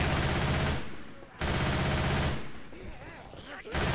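Rapid gunfire bursts from the zombie shooter video game Left 4 Dead 2, loud and close, in two dense sustained volleys separated by a short lull with faint game sounds.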